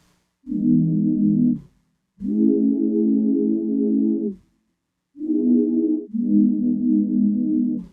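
Four sustained, warm synth pad chords with reverb, made in Serum for R&B, in the low-mid range, each swelling and ringing out, with short silent gaps between the first ones.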